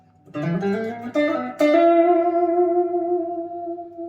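Butterscotch blonde Fazley Buttercup FTL200BSB-M electric guitar played clean through a Boss Katana amp with a little reverb: a few plucked notes, then a strummed chord that rings out and slowly decays, alone and up close.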